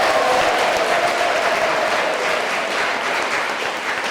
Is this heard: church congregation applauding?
yes